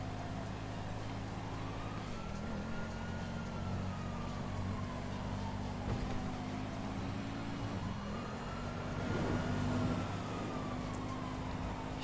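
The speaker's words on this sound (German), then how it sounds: "Ich höre die Feuerwehr. Die Polizei." A wailing emergency siren from a police car or fire engine in GTA V sweeps up and down in slow cycles, moderately distant, over a steady low engine and traffic rumble.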